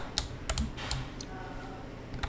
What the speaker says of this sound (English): You hear this noise? That's my keyboard.